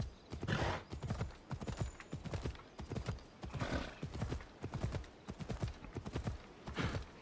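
A horse gallops in the video game Assassin's Creed Odyssey, its hooves striking in quick, rhythmic clusters at a moderate level with no talk.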